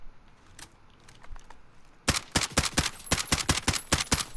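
DMR rifle firing in Call of Duty Modern Warfare, a rapid run of about a dozen sharp, evenly spaced semi-auto shots after a quieter stretch with a few distant pops, close and punchy.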